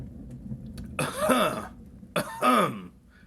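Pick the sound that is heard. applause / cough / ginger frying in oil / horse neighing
cough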